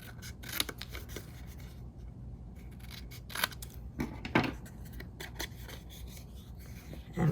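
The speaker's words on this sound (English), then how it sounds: "We're going to cut out the sides here, the little boxes" Scissors snip out small paper boxes for a recipe memory box craft, quiet intermittent cuts and soft paper rustling up close, with irregular sharper clicks scattered throughout.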